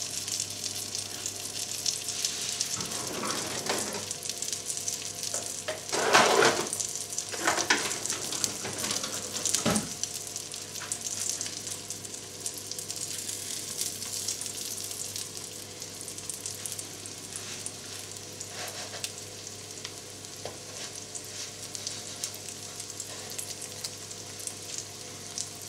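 A pre-cooked chicken burger patty frying in a pan, giving a steady hissing sizzle throughout, with a few louder crackling bursts early on, close and even, no talking.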